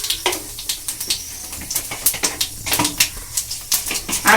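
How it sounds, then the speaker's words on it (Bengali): Fennel seeds dropped into hot oil for a Kolkata-style samosa filling crackle and pop in a quick, irregular burst of sharp ticks, close and moderately loud, with no voices. "এই তেলেতে আমি দিয়ে দেব মৌরি ফোড়ন। এই যে মৌরি ফোড়ন দিয়ে দিচ্ছি"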